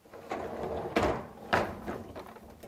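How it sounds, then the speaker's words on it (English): The lower rack of a Frigidaire dishwasher is pulled out, giving a series of close rattling and sliding clatters with a couple of sharper knocks, and no voices. "remove the lower rack."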